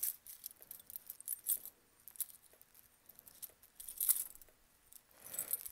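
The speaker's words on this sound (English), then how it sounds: "Try and find my CAT15 key." Keys jangle faintly in short, scattered bursts while someone searches a key ring for a CAT15 key during a duct detector test, quiet and close with brief pauses.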